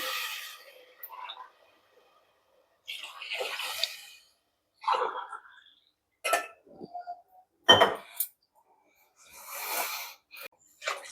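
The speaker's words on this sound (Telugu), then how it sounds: "ఈ గ్లాస్తోనే రెండు నాలుగు గ్లాసులు వాటర్ పోయాలి" Several short splashy glassfuls of water land in a cooking pot, separated by pauses, with occasional metallic clinks of a vessel between them.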